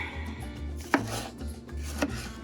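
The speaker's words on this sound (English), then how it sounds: "let's go ahead and get our veggies cut." Rough chopping of vegetables for sofrito with a kitchen knife on a board, steady scraping cuts with two sharper knocks of the blade, close and alone without talk.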